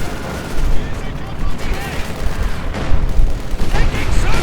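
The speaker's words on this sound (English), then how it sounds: "we're seeing some light artillery getting called in as well" Light artillery and gunfire in a Company of Heroes 2 battle, a continuous rumble of blasts and shots with bursts of louder impacts, heard under a voice talking.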